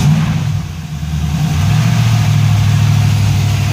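A car engine on a stock ECU standalone harness under test, continuous and loud, with a steady running tone that rises slightly after a brief dip near the start. No clear starter cranking is set apart.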